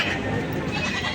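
Goats bleating close by at a goat market in Padre Garcia, Batangas, in a brief, dense burst, with overlapping calls over a noisy background.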